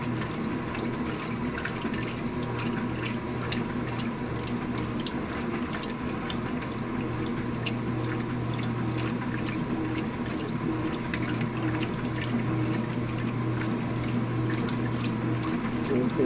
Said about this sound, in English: See, the tub is indexing.